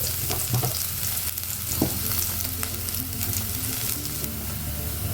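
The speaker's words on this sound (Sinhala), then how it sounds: "සුදු රුම් ටික තෙම්පරාදු කරගන්න." Peeled garlic fries in a little coconut oil for a pork curry, giving a close, steady sizzle with light crackling and a few stirring clicks.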